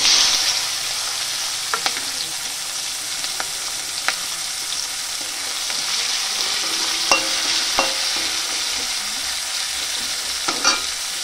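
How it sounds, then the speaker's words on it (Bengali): Chopped onion and green chilli fry in leftover fish-frying oil in a pan, a steady close sizzle running throughout, broken by several sharp scrapes of a spatula stirring, with no voices. "তো সব তেলের মধ্যে দিয়ে পেঁয়াজটা ভালো করে ভেজে নিই।"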